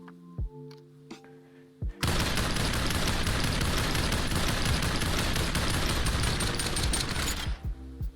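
A CX4 assault rifle in the VR shooter Population ONE fires one loud, continuous automatic burst of about five seconds, preceded by a few isolated clicks and thumps and followed by a couple of short knocks.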